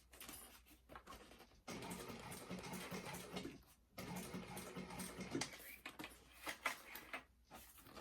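A sewing machine top stitches a fabric bag in bursts of rapid mechanical whirring, two long runs and several short ones separated by brief pauses, close and fairly quiet.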